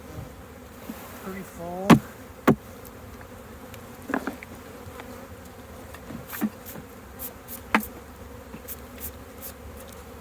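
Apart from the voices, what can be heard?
honey bees buzzing around honey frames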